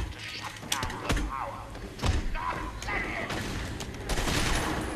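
Rapid gunfire bursts and heavy thuds during a hard-difficulty brawl in a Batman video game, with an assault rifle among the enemies; shots and impacts crackle in quick clusters, mixed with combat grunts and effects.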